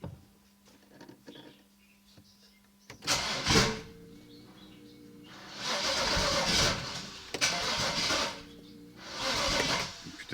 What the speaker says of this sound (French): Je vais tenter un démarrage.